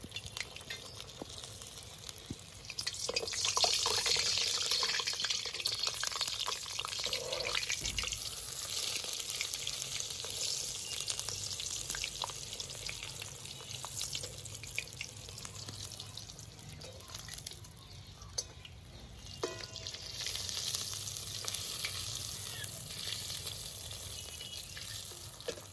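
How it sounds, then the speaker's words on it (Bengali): Kachori stuffed with green peas deep-frying in hot oil in a Bengali kitchen, a steady, fairly quiet bubbling hiss that swells and eases over about twenty-five seconds with scattered small pops, no voices. "এবার আমি এটা আস্তে করে তেলের মধ্যে ছেড়ে দেব।"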